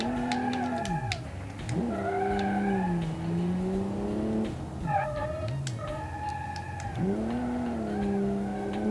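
Car tires skid and squeal as a car spins out in the driving game Automation, long wavering screeches rising and falling over a steady engine drone, loud and sustained.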